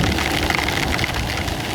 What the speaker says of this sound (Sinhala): මොන හයියෙම වහිනවා.